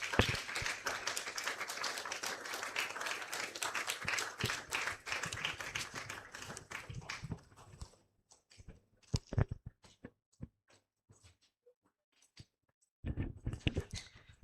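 Audience clapping at a faculty awards ceremony, dense applause for several seconds that thins to scattered individual claps, then a brief burst resumes near the end.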